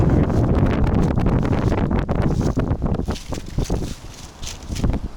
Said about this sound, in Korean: 여기 이렇게 바람이 세게 불어